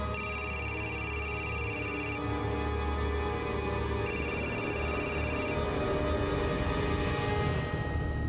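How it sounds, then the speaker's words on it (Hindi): A phone's electronic ringtone trills in two bursts separated by a pause, sounding over a steady low hum of background noise. "आपका फोन बहुत बज रहा है।"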